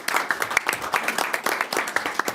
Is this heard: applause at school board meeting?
yes